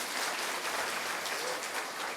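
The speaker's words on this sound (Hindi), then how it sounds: "ताली नहीं बजाई आपने।" An audience at a welcome session of a spiritual gathering claps together in a dense, continuous burst that lasts a couple of seconds.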